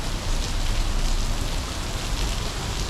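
Heavy rain pours steadily onto a flooded street in Taipa Village, Macau, a loud, dense, unbroken hiss and patter of water close by, with no voices.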